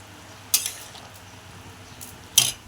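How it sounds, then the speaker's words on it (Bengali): Mustard seeds, poppy seeds and panch phoron dry-roasting in a pan make two brief, crisp crackling pops over a quiet background. "এদিকে সর্ষে পোস্ত পাঁচ ফোড়ন শুকনো খোলায় ভাজা হচ্ছে"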